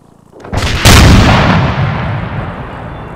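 Artillery fires in a military video game. A dull thump comes first, then one loud, close blast that rolls and echoes away over several seconds, with no voices.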